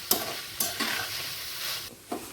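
Ridge gourd curry with grated coconut is stirred in a pan over a soft ongoing sizzle, with a handful of sharp scraping strokes of the spoon spaced irregularly, close up and with no talking.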